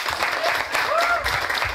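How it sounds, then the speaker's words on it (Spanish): A crowd at a village carnival festival in Cantón Juan Yanes, Uluazapa, breaks into continuous applause, with a faint voice just audible beneath the clapping. "Fuerte aplauso, por favor"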